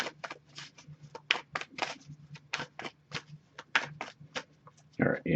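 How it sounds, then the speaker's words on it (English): A deck of tarot cards is shuffled by hand in quick, close, crisp riffles and flicks. Soft rustles fill the gaps. "I'll give it a few more shuffles."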